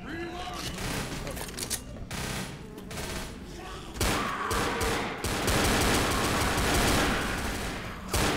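Pistols firing in rapid bursts in the Left 4 Dead video game, dense overlapping shots and gunfire growing louder in the second half, with players talking over the shooting.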